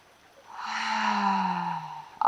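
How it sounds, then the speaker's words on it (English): A long audible exhale during a yoga breathing exercise, a breathy, voiced outflow of air that swells and then fades over about two seconds, close and alone. "Audible exhale."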